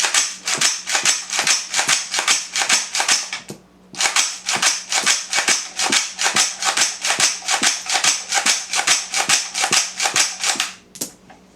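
Rapid semi-automatic gunfire from a 7.62x39 AR-15 rifle with a side charging handle, a steady run of sharp, loud shots with a brief pause near four seconds before firing resumes, ending with a final shot.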